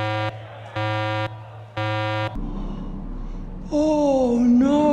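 Three loud buzzing race-start countdown beeps sound at a steady rhythm, then a higher, longer tone follows amid background noise.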